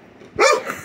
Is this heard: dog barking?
yes